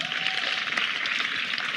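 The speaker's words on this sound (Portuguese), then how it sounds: "Palmas para o irmão" Brief audience applause at a church conference, a dense patter of clapping from a crowd, steady and moderately loud for under two seconds.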